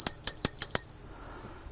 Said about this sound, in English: there is a ringer. I forgot to mention, it comes with a bell.